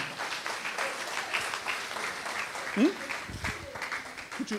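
An audience at a bilingual French-German religious youth camp gathering claps in a dense, steady round of applause, with voices mixed in beneath it.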